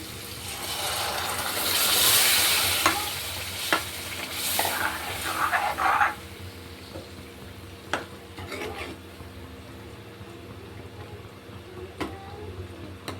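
Moth beans tipped into hot masala in a pan, sizzling and frying steadily while a spoon stirs and scrapes them in close, busy bursts that settle into a softer sizzle.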